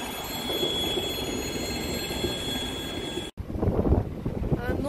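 A train on the Tuapse–Adler coastal railway rumbles past nearby with a steady rolling roar and high whining wheel tones, briefly cutting out before continuing.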